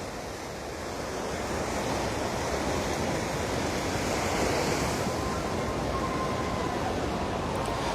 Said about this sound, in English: But now some waves are coming in.